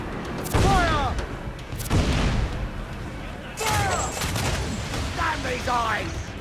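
Ship cannons firing at sea in Assassin's Creed IV Black Flag, several heavy booms in separated volleys, loud and close, with shouted crew voices and game dialogue in between.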